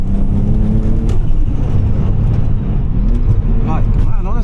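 A turbocharged 530 hp BMW sleeper accelerates hard on a wet road, engine note climbing steadily from inside the cabin, with a rising whine and short chirping blips near the end.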